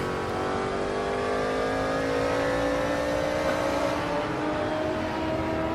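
A Nissan race car engine drones loudly in a 1960s racing game at Kyalami, a steady, close, buzzing roar with rising harmonic tones as it holds high revs.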